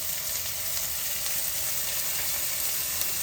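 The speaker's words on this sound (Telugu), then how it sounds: "ఇప్పుడు వేసేస్తున్నాం షాజీరా" Shahjeera seeds added to hot oil for a mutton curry give a loud, close, continuous hissing sizzle that stays steady throughout, with no voices over it.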